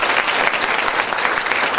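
Audience applause at a Safe Shop show, a dense, even burst of clapping from a crowd, loud and close, lasting the whole short stretch.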